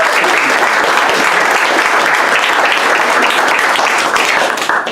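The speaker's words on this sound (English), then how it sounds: "give her a big round of applause" Room full of people at a senatorial campaign event breaking into loud, dense applause, sustained clapping close and full for several seconds before starting to fade at the very end.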